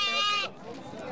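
A goat at a Central Asian livestock market gives one loud, close, wavering bleat, followed by market bustle with people talking in the background.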